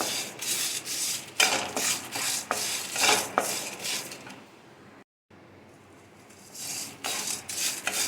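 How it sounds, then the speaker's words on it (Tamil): Biryani masala spices being dry-roasted in a pan, with repeated dry scraping and stirring strokes of a utensil, close and fairly loud, broken by a brief silent gap before the stirring resumes. "கொஞ்சம் சூடாகிற வரைக்கும் நம்ம வறுத்தா போதும்."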